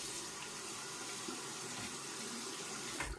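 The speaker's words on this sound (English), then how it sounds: "Rinse off my hand here" Water runs steadily from a bathroom tap into a sink while a hand is rinsed during a wet shave, a continuous close splashing stream with a brief louder splash near the end.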